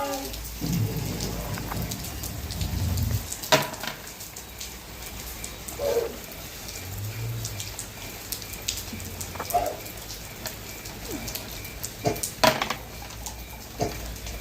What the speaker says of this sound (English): Oh, what a sweet piece of rain